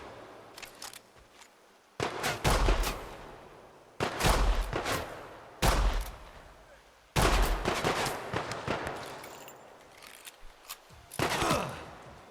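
Gunfire in a loud video game, several bursts of shots in quick succession with short gaps between them, sharp and close, while a man exclaims now and then.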